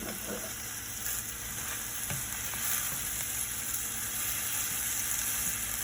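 White button mushrooms fry in a pan with a steady, close sizzle and an occasional light stir or scrape, heard alone without talk.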